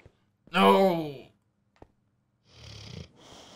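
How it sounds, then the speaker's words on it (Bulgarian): A man snores, one long rasping inhale followed by a breathy, fluttering exhale, close and loud between stretches of near silence. "А той хърка."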